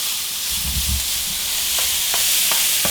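Chopped garlic sizzles in a hot pan for Cajun dirty rice, a steady bright frying hiss with a few soft stirring scrapes and clicks, close and alone.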